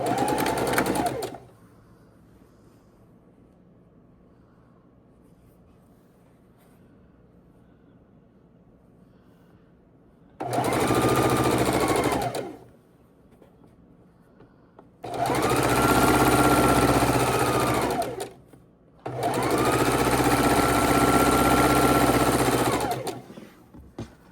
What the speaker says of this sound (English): we're sewing our 4 patch of 4 patches together, lining up our seams